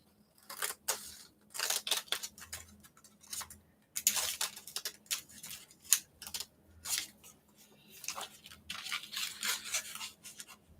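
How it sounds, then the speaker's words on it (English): Scissors snip again and again while trimming the top and bottom edges of a printed image for an altered book, close and crisp in an otherwise quiet room. "I'll just trim a little bit off the top and bottom"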